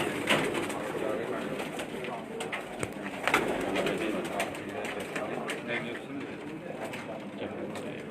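Pigeons coo repeatedly on a rooftop, soft rolling calls over a busy outdoor background, with people talking intermittently nearby.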